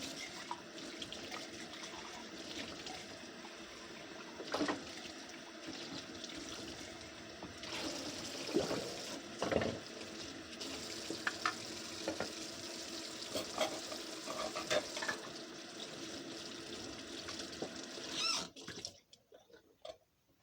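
Hands washed under a running kitchen tap while cooking, a steady rush of water with occasional clinks and splashes, cut off abruptly near the end; no one speaks.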